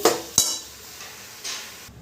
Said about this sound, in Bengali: এটাকে একটু নাড়াচাড়া করতে হবে